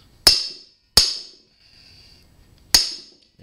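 Three sharp, loud metallic impacts from hammering on a Suzuki GS550 cylinder head, each ringing briefly and decaying, the first two close together and the third after a longer gap.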